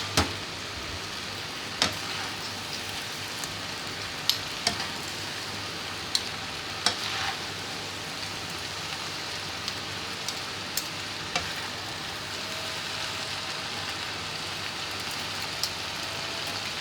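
Minced meat for spaghetti frying and being stirred in a pan, a dense steady sizzle with scattered sharp scrapes and taps of the spoon over about seventeen seconds, close and even, with no talking.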